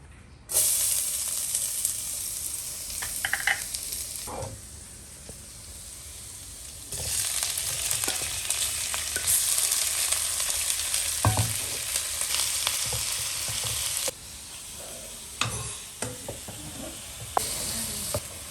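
Garlic fries in a pan for spaghetti, with a loud, close, steady sizzle that briefly dips and swells several times, broken by occasional stirring scrapes.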